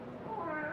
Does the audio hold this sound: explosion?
no